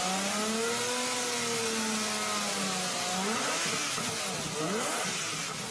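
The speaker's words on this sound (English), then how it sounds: "the only music you're gonna want to hear is the song coming from that engine" A Lamborghini 12-cylinder engine revs loudly, its tone climbing and falling in smooth sweeps before breaking into rougher bursts, heard alone without talk.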